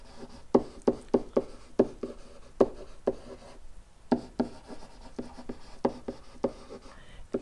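Marker or pen writing by hand on a board, a run of quick taps and short scratchy strokes in uneven bursts with a brief pause midway.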